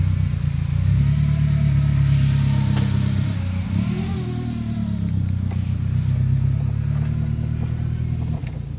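A car fitted with a new engine pulls away in first gear, its steady mid-pitched engine note rising briefly as it accelerates, loud and close throughout with no talking.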